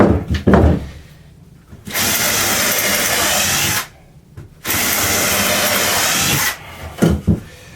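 A power drill bores holes through scrap wood for a saw stand, in two long steady whirring bursts of about two seconds each, with brief handling sounds and pauses around them.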